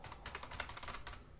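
Java code being typed on a computer keyboard, a quick run of soft, close key clicks in an irregular rhythm, heard alone and fairly quietly.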